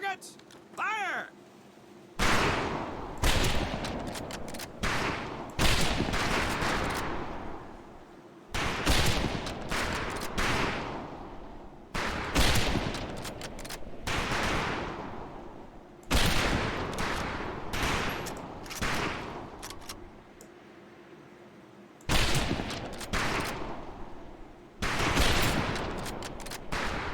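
Rifle fire at practice targets on a training range in Medal of Honor: Pacific Assault, with loud shot volleys repeating every few seconds and a commentator talking between them.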